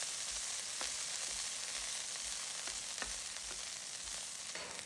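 Two tablespoons of capers frying in a pan beside chicken piccata, with a soft, steady sizzle and a few faint pops and taps, fairly quiet and heard alone.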